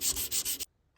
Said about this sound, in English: I'm going to sand it in a diagonal at first